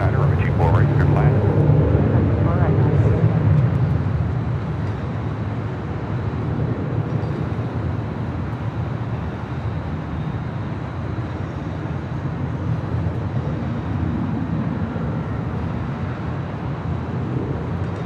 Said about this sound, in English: That was Delta Airlines Flight 2531 coming in from Portland on that A319.